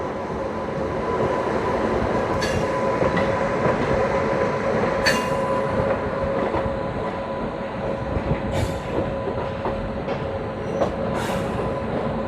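A train rolls past on railway tracks beside a freight wagon, a container car and a brand-new LHB coach, a loud continuous rumble with occasional sharp wheel squeals and clicks throughout.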